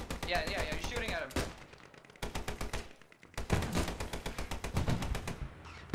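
World War II video game gunfire near Arnhem: repeated bursts of rapid machine-gun fire with short gaps, loud and close, while voices talk.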